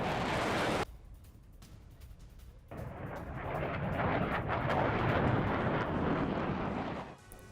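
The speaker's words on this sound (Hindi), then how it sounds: "यूक्रेन के मिग-29 फाइटर जेट्स की ये बड़ी उड़ान देखने को मिली है" A Ukrainian MiG-29 fighter jet roars overhead while chasing a Russian missile, a loud broadband rush that cuts out briefly and then swells back, building to a sustained, heavy blast before fading at the end.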